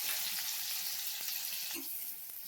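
Onions and chilies fry in coconut oil in a pan, making a soft, continuous sizzle with faint stirring scrapes, quiet and close, with no voices.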